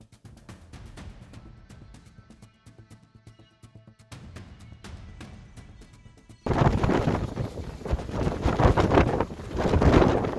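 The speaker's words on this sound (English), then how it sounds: "The sea roared in fury waves, crashing violently" Gusting wind buffets the microphone with sporadic knocks, then a sudden surge of loud rushing water and wind, like rough seas heard from a boat.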